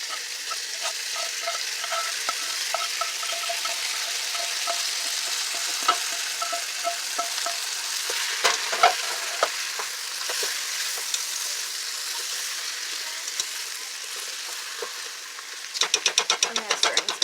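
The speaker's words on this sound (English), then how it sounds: "I'm going to stir and spoon." A spoon stirs veggie mixture into beef stew in a sizzling pot, a steady frying hiss under soft scrapes and clinks, closing with a quick run of louder rhythmic spoon knocks against the pot.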